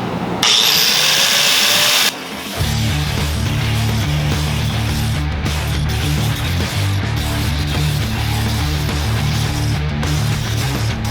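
A power tool cuts through the steel shock tower of a car during Mustang II front-end prep. A brief harsh burst comes first, then a short pause, then a steady, loud, droning whine runs unbroken to the end.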